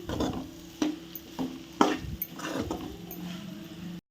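Masala being stirred and sautéed in oil for Sri Lankan style beetroot stir-fry: a low sizzle broken by several distinct scrapes and clinks of a spoon against the pan, close and uneven in rhythm.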